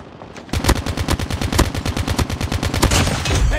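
Rapid automatic gunfire from Call of Duty Mobile in a 10v10 match on the Crossfire map, loud close bursts of steady repeated shots with no pauses, starting after a brief quiet moment.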